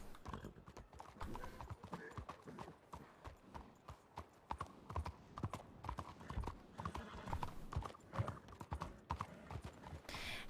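Horse hooves clip-clop steadily in the WildRP video game, an even trotting rhythm throughout, quiet but distinct, with light ambient game sound behind.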